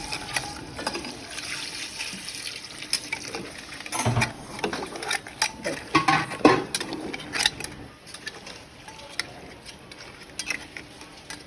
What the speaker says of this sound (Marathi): पाणी ऍड करूया आपण, जेवढा पाहिजे तेवढा आपल्याला